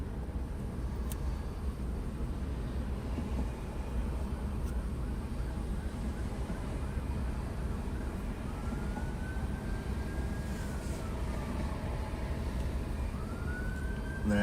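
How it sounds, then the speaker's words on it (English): Distant police emergency vehicle sirens wailing faintly over a heavy steady rumble of traffic and wind during raids in Minneapolis-St Paul, with rising and falling tones emerging toward the end. "Yeah, we're in sirens big time."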